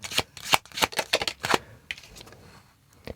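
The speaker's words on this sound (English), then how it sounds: "One more card for the past/present," Tarot cards are shuffled and flicked during a reading, giving a quick run of crisp riffling snaps and slaps up close, then a few softer slides and taps as cards are drawn; no speech.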